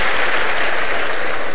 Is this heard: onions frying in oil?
no